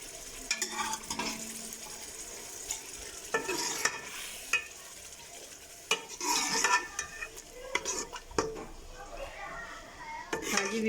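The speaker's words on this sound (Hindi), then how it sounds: "अब इसके अंदर चने डाल के अच्छी तरह से मैं चनों को भून लूँगी।" Chickpeas roasting in a pot on the stove, with repeated spoon-against-pot scrapes and clatters in irregular bursts over a faint background sizzle, close by and moderately loud.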